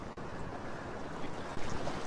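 Ocean surf rolls in at Currumbin beach in Queensland, Australia, a steady broadband wash of waves under gusty wind noise, with a slightly stronger surge near the end and no voices.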